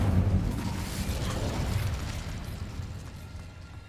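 An Incendio fire spell cast in Hogwarts Legacy, a fiery burst with a low rumbling whoosh that starts strong and gradually fades over a few seconds.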